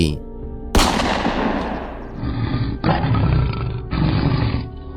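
A sharp, loud gunshot cracks out and decays into a rumbling echo, followed by heavy roaring bursts.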